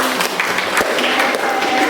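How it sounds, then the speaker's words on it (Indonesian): Classroom clapping for a student, a brief burst of mixed hand claps from several pupils in a room, with some voices mixed in. "Tepuk tangan untuk Eni."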